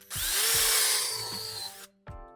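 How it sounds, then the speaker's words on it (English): A power drill bores a pilot hole into a thin wooden board, one loud sustained whine with rising pitch as the bit cuts through, then a short second burst after a brief pause. "Since these boards are quite thin and we're drilling near the end, I'll be sure to pre-drill all the holes."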